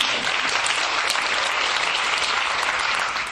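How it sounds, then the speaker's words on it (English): An audience claps steadily for two costume designers at a live stage event, a dense, even wash of applause that holds at full strength for the whole stretch and only eases slightly at the very end. "Go and give them a clap."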